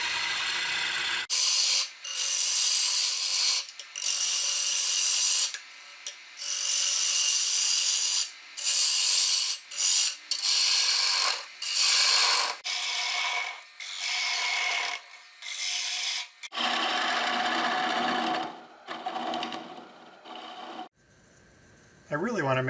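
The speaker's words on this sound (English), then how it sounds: "start hollowing the inside, working from large diameter to small" Wood lathe hollowing the inside of a kauri bowl with a chisel, a loud rasping scrape in repeated passes of a second or two, separated by brief quiet gaps as the tool lifts, close up.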